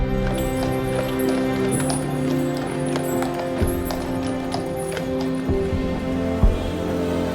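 Horses' hooves clip-clop along a street in a cart parade, a steady rhythmic patter of hoofbeats under a droning background and faint crowd noise, with an occasional louder knock.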